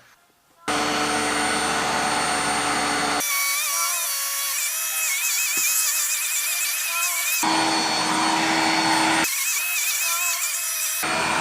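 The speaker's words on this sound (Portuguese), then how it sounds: "Vou mostrar isto a aspirar." A Xiaomi Jimmy JV11 anti-mite handheld vacuum cleaner running loud and close: a steady high-pitched motor whine with shifting tone as it works, changing pitch in several distinct stretches, with no talking.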